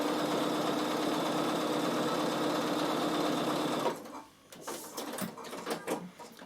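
Bernina sewing machine stitching over piping cord runs in a steady, loud mechanical whir for about four seconds, then stops, followed by faint handling clicks and rustles.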